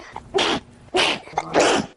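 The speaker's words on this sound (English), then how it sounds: "I can't stop sneezing." Three loud, close sneezes from a 12-year-old girl with a chronic sneezing condition, evenly spaced and coming one after another in quick succession.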